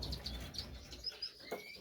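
Birds inside a black bird shed give repeated high chirps and tweets alongside soft wing flaps and low fluttering, close and fairly quiet with no one talking.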